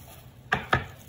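Two sharp knife chops through crispy lechon belly land close together on a cutting board, loud and crunchy against a quiet room, with no talking.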